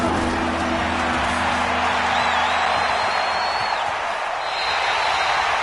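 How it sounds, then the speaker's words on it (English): A stadium crowd in a video game football match cheers and murmurs as a big third down approaches, a steady, moderately loud roar running throughout without clear speech. "The crowd getting into it as we come up on a big 3rd down."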